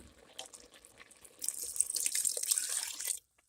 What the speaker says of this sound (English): So now we need to stir in 2 cups of apple juice